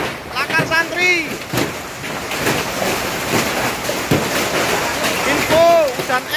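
Hailstorm with strong wind in Surabaya, a dense roar of wind and pelting ice rattling on surfaces, loud and continuous, with someone speaking excitedly over it.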